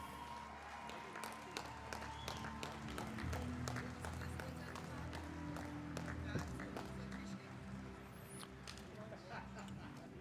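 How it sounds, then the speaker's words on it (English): Crowd applause rolls steadily at a STIHL Timbersports German Pro Championship, dense clapping heard at a distance under an announcer's voice. "Big round of applause coming here for Denny Vielwert in his first National Pro"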